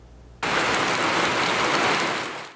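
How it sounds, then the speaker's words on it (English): Heavy rain suddenly starts pouring down in Kaohsiung, a loud, dense, steady hiss that holds without a break, with no voices. "It was pouring buckets in Kaohsiung"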